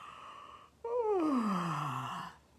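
A long, audible yawn with a falling, drawn-out pitch sounds alone and close during a children's bedtime song.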